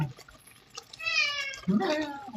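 Two drawn-out cat meows close by, the second rising and more strained, with faint watery background noise between them.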